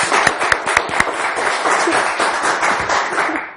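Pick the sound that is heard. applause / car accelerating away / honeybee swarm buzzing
applause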